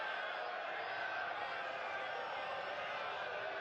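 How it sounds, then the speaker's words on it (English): Stadium crowd at an FC Tulsa versus Oakland Roots SC soccer match, a steady distant murmur of fans kept low in the background without clear peaks. "You can hear the crowd in the back"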